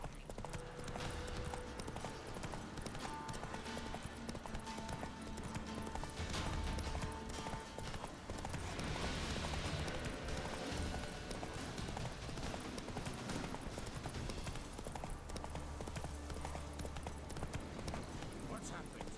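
Hooves of Roach, a horse in a video game, clip-clop in a steady rhythm beneath continuous game music and ambience, with a voice talking over it.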